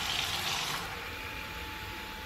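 Warm water pours steadily into a plastic soap bottle being topped up for homemade foaming hand soap, a soft continuous rushing that thins slightly after the first second, heard alone.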